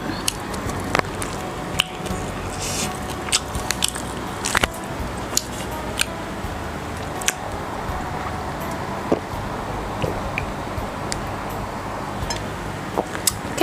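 Lao spicy raw koi khom dish being eaten, with wet squishy chewing and sharp crunchy bites repeating steadily and close throughout, no talking.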